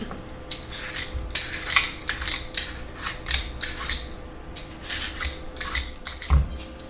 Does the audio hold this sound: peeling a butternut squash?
yes